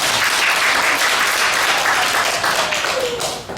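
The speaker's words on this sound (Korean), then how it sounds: "박수 한번 크게 칩니다." A church congregation at a New Year's Eve watch-night service applauding loudly, dense continuous clapping that fills the room and tapers slightly at the end.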